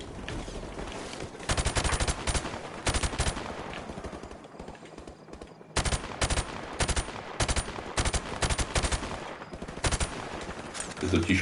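Rapid bursts of helicopter gunfire in Call of Duty: Modern Warfare Remastered crackle in repeated volleys, loud and close, with short pauses between them and a low engine-like rumble underneath.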